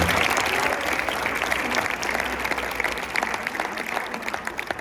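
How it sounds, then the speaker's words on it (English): Audience applause for students at a college night event, a loud, full round of clapping from a room of people, sustained throughout and easing slightly toward the end. "Round of applause for all of our students here"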